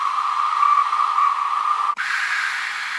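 A homemade metal-pipe death whistle blown with air lets out a loud, steady hissing shriek, breaking off for an instant and resuming in a slightly shifted, harsher tone.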